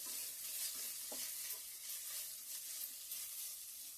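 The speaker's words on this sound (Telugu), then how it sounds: "ఇంకా మసాలా అయితే వేగింది కదా, కొంచెం అన్ని కలిపి ఒకసారి మళ్ళీ వేసేసి ఇలాగా" Masala with mango paste for a carrot and beans curry sizzles steadily in a pan while being stirred, with soft scraping strokes over a continuous close frying hiss.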